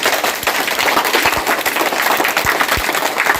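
A class of young children claps for a classmate during a school readiness activity, a dense, steady patter of small hands that stays moderately loud throughout.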